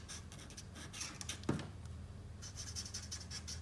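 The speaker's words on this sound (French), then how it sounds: "Le vert gris 5 pour venir colorier ici le dos de nos mains" A grey-green 5 marker colouring the backs of the hands and the jacket edge on a paper drawing of Kenji from Fortnite, soft faint repeated scratchy strokes in a quiet room.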